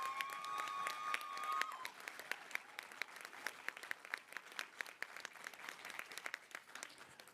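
Sparse applause at a winter high school graduation ceremony, a scattering of distinct hand claps from the audience that start after a fading tone and continue unevenly, moderately quiet and somewhat distant.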